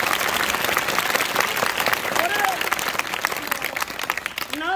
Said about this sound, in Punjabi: ਇੱਕ ਵਾਰੀ ਦੁਨੀਆ ਭਰ ਦੇ ਸਾਰੇ ਅਧਿਆਪਕਾਂ ਵਾਸਤੇ ਜ਼ੋਰਦਾਰ ਤਾੜੀਆਂ ਮਾਰ